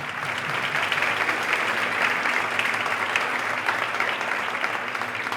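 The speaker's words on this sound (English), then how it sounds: "Please, a huge applause in advance to them." Steady, sustained audience applause at a Banco Industrial technology event in Guatemala, a dense even wash of clapping from a large crowd that holds at constant loudness throughout with no talk over it.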